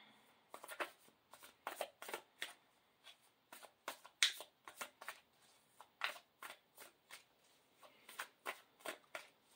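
Large cards being shuffled by hand in a steady series of quick, soft riffles and taps, close and fairly quiet.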